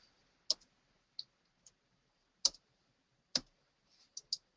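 Sharp, isolated computer keyboard key clicks, about eight taps spread irregularly with pauses between them, close and fairly quiet in an otherwise silent room.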